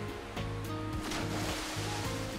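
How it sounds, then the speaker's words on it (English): Water splashes in the online game PSO2 during a summer event: one broad whooshing splash of surf-like noise fills the short stretch over a steady low game tone, with no talking. "And a very late splash."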